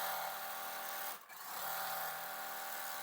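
Sewing machine chain piecing a quilt block, a steady close mechanical whir running almost continuously with one brief pause midway.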